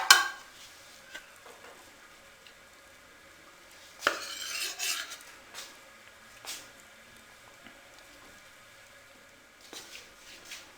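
Chicken mattar pulao rice scooped and served onto a plate, with scattered scrapes and clinks of a spoon against the pot and plate, a louder scraping burst midway, over quiet background.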